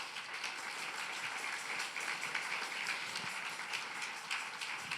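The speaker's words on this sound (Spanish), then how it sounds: "Denle un aplauso al Señor." Congregation at a church service applauding, a dense continuous patter of many hands at moderate distance, steady throughout with no talk over it.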